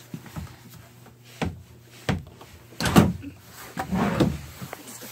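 Storage drawers in a 2015 NeXus Phantom 32SC motorhome are pulled open and pushed shut several times. Each brings a soft slide and a dull thump, with quiet gaps between them.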